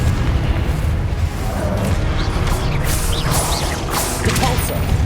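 Confringo blasting spell going off in Hogwarts Legacy, a loud, dense booming blast with crackling bursts and whooshes layered over continuous game noise, no voices.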